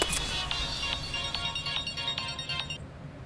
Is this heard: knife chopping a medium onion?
no